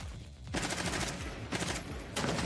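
Gunfire in a video game, with rapid bursts of automatic shots crackling in quick succession at close range and a couple of brief pauses between volleys.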